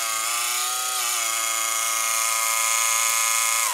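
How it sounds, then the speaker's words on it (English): A homemade 3D printer water cooler's pump whines loudly and steadily up close, a bright buzzing tone rich in harmonics that holds for several seconds before cutting off. "that water pump is so loud."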